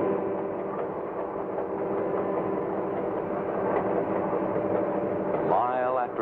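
A Santa Fe Railway freight train running at speed gives a continuous low rumble and rolling clatter, steady and close, with a voice talking over it near the end.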